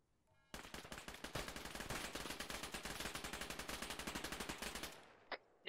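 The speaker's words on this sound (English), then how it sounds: "We're taking more shots from the west" A long burst of rapid automatic gunfire from Arma 3 rattles loud and continuous for about four seconds in a vehicle compound raid, then cuts off, followed by a single distant shot.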